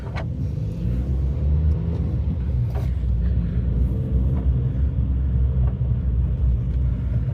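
A car engine runs steadily as the car is moved, a low, even rumble heard from close by with a few faint clicks and no talking.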